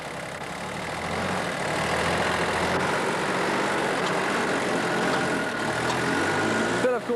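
A tractor hauling a load of Jersey daffodils idles with a steady low rumble that runs throughout at close range, while someone speaks over it.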